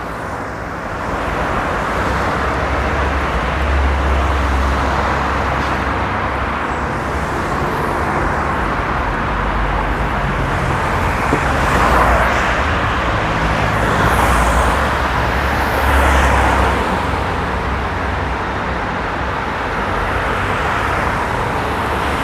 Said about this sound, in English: This looks like a newer bus.